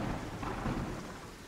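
A thunderclap rolls in the video game Terraria, a brief, dense low rumble with a rain-like hiss, loud and steady across its short length with no voices.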